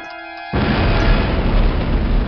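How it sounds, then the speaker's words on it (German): After a brief tonal hum, a sudden loud boom bursts in and rolls on as a heavy, sustained rumble in Call of Duty 1. "Schauen wir uns die Explosion an."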